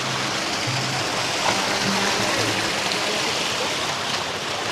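A river stream rushes over rocks beside a trail near Hugasan Falls in Tagaytay, a continuous broadband wash of flowing water, close and steady, with faint voices underneath.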